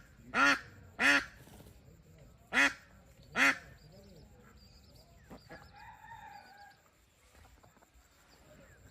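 Ducks near water give four loud, raspy quacks close together at the start, followed by fainter calls and scattered rustling.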